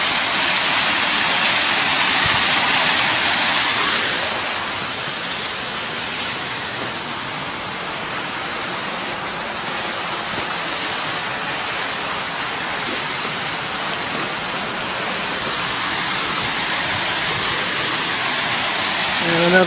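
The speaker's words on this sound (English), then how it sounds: "Another view of the waterfall here from the side." Side view of a waterfall in a city park (Finlay Park) along an urban trail: steady rushing water, loud at first then settling slightly softer, a continuous broad hiss with no clear talk.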